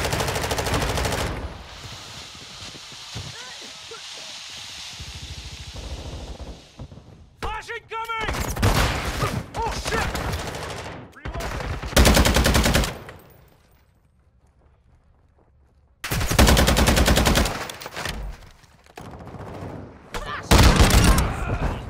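Gunfire in Call of Duty, with bursts of automatic fire broken up by brief pauses and a near-silent stretch, mixed with in-game radio voice callouts and talking.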